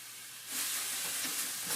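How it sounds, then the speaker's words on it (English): Olive oil sizzles in a pan while tomato sauce fries, a faint steady hiss that swells after a moment and continues with soft crackles. "I want to hear those things frying."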